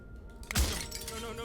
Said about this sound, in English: But his pleas disappear at the sound of breaking glass.